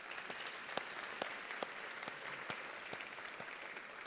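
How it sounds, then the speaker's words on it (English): An audience at a county awards event gives a round of applause, a quiet, even patter of many hands with a few sharper individual claps standing out. "So let's give him a big round of applause."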